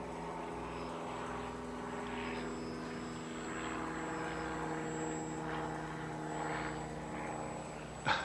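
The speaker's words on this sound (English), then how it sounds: "And an airplane's coming, so let's get out of his space." An airplane flies overhead outdoors, a steady, fairly faint engine drone with a propeller hum that holds evenly throughout and swells slightly near the end.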